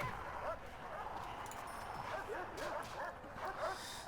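Dogs in the prison game Prison Architect bark and yip repeatedly in quick, uneven bursts, fairly close, with whimpering notes over a busy background of game noise.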